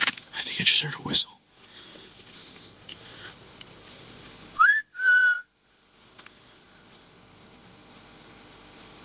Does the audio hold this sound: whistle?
yes